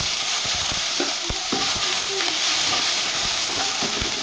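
Chili, bay leaf, five-spice and ginger frying in oil for a vegetable dal, a steady close sizzle with occasional stirring clicks and pops throughout.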